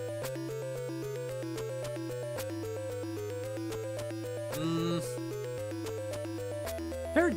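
Chiptune music from the video game Castlevania 2 plays steadily and fairly loud, with a looping bass line under bright square-wave melody notes, a brief swelling sweep midway and a sharp accent near the end, with no talking.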